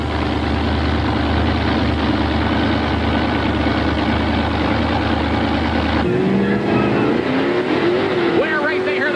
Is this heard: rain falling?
no